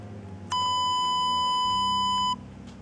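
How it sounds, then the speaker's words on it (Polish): Samsung Galaxy Beam phone emitting a single steady electronic test tone lasting almost two seconds, loud and close, with quiet room noise before and after. "Wibracja."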